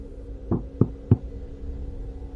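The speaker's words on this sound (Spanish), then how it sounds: "3 golpes en la puerta me sacaron de esa burbuja deprimente." Three evenly spaced, close knocks on a door ring out against a quiet background with a faint hum, ending in silence.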